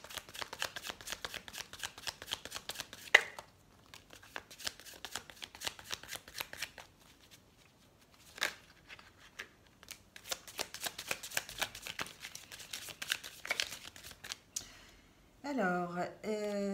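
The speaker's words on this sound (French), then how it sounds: "on va prendre quelques cartes de l'oracle des amoureux pour avoir des petits messages." Oracle cards of a lovers' deck are shuffled by hand in repeated crisp riffling bursts, close and fairly quiet, with a few pauses between runs.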